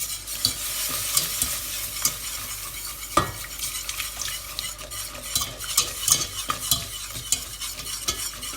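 A spoon scrapes and stirs a butter, flour and milk roux for lasagne in a pan, with a soft sizzle and repeated utensil knocks at an uneven, close rhythm and no voices.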